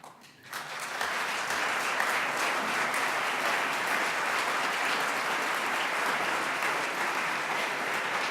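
Sustained applause from a legislative chamber audience at a state governor's State of the State address in Montana, a dense steady wash of clapping that swells in after a brief quiet start and holds loud to the end.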